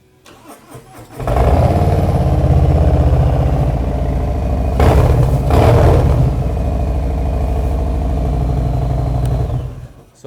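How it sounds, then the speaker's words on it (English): A 2021 Harley-Davidson Road Glide Special with a single-cam Milwaukee 8 engine and Tabs Performance exhausts cranks briefly, fires up and settles into a loud, deep, lumpy idle close by, with a couple of light throttle blips midway before cutting off. "when you pair the Milwaukee 8, which has a single cam, with a good set of exhausts, you can really get a nice, kind of that old school sound"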